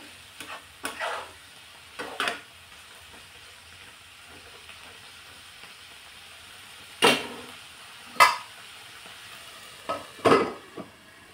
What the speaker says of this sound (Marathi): अगदी मध्यम आचेवरती झाकण लावून 5 ते 7 मिनिटांसाठी भाजी आपण शिजवून घेऊ